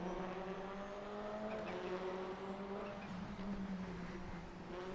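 Race cars in a racing video game hum along in a steady, continuous engine drone at moderate level, several engines blending without clear passes, no speech over it.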